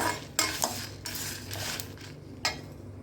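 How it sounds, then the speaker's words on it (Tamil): Fennel, cumin, pepper, coriander and dried chillies dry-roast in a kadai, giving a few sharp metallic scrapes and stirring clatters over a soft dry rustle of spices, close and fairly loud, with no talk. "இப்போ இது எல்லாத்தையும் கடாயில் கொட்டி வறுத்து எடுத்துக்கலாம்."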